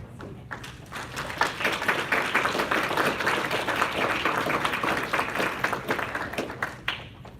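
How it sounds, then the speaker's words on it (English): An audience applauds a speaker, Steve Hicks, at a lecture on socialism, with steady clapping from start to finish and no voices. "We all give a big round of applause for Steve Hicks."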